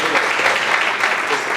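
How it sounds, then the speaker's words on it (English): Audience applause for candidates at a breakfast event in Fort Worth, a dense steady wash of clapping filling the room at even loudness throughout, with faint voices mixed underneath. "Let's give them a round of applause."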